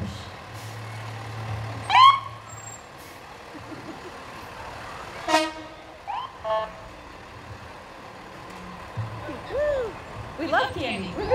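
A fire truck rolls past slowly in a small-town firemen's parade, engine rumbling low beneath sharp horn or siren blips and squeals, while an announcer talks and the crowd cheers.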